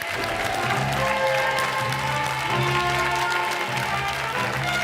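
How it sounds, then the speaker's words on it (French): Loud, sustained applause from a TV game show studio audience fills the whole stretch without letting up. "Et l'on applaudit fort Nadia de Villeurbanne."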